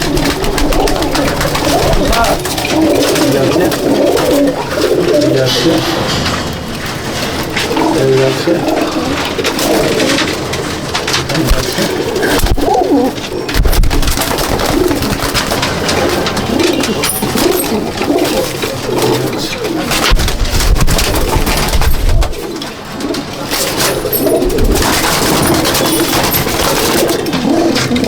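Pigeons coo continuously inside a loft in Jangipur, Murshidabad, a dense, close chorus of throaty rolling calls with wing flutters and shuffling, while someone talks intermittently over them.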